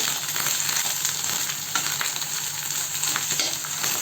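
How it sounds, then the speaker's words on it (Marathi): Eggplant roasts in a frying pan with green chillies and garlic, sizzling steadily and close up while occasional soft scrapes and clicks mark the pieces being turned. "आपल्याला छान सगळीकडून भाजून घ्यायचे वांगी."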